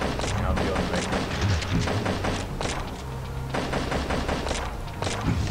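Rapid bursts of gunfire from the video game Chromosome Evil, repeated volleys with brief pauses between, loud and close.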